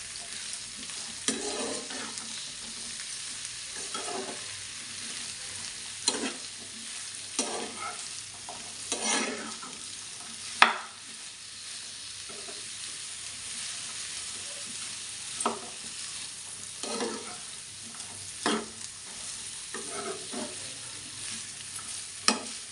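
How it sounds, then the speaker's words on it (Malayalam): Cut potato and okra frying in a pan with curry leaves to come, heard as a steady close sizzle with repeated scraping stirs and occasional sharp clinks of the spoon, no voices. "എന്നിട്ട് നന്നായിട്ട് ഒന്ന് ഇളക്കി കൊടുക്കുക"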